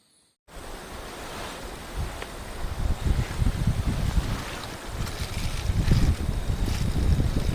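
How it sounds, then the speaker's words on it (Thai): Strong wind roars steadily and loudly at night in a forest, gusting and rumbling against the microphone with a rushing, buffeting texture throughout, no voices. "เสียงลมแรงมากครับ"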